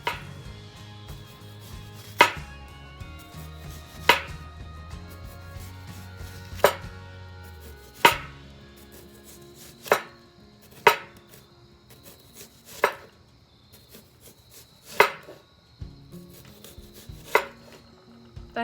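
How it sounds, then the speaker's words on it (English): A knife slices a red onion very thin for homemade burgers, crisp individual chops striking the board at irregular intervals, about a dozen clean cuts close up over a quiet background. "I'm going to slice them very thin."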